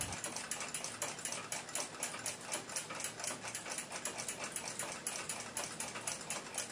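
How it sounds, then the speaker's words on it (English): A small watchmaker's lathe spins a Waltham pocket watch part while its burrs are polished away, giving a quiet, rapid, regular ticking chatter that repeats evenly with no voices. "I'll mount it in the lathe and polish the burrs off"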